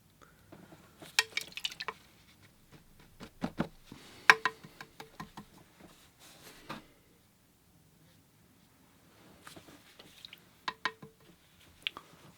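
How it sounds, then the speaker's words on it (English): Watercolour paint and water are splashed onto paper with a brush, giving faint, close, scattered taps, flicks and wet dabs in short bursts separated by quiet gaps. "I'll take some of this and splash a little bit,"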